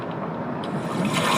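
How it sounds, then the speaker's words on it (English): Close underwater crunching and scraping, a gritty rasping texture of parrotfish biting on coral, continuous over a watery background hiss. "This is the sound of parrotfish snacking on coral."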